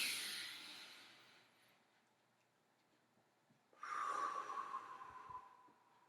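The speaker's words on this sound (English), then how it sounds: "a deep breath in" A single deep breath in, close and audible, followed after a quiet pause by a longer, louder breathy exhale.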